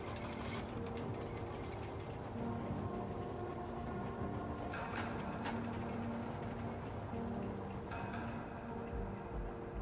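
A steamboat engine chugs steadily in Vampyr, a continuous mechanical drone with faint rhythmic clatter and occasional bright clanks over an even, moderately quiet background.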